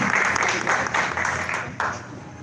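A church congregation claps in a sustained round of applause during a live worship service, the clapping dense and lively, slightly tapering toward the end.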